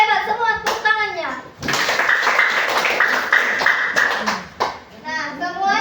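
A classroom of children claps their hands for about three seconds, a dense, lively burst of applause between a teacher's spoken remarks before and after.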